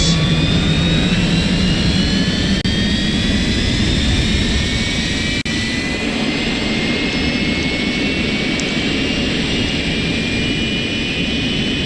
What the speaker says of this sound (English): why do you need a jet engine in your backyard?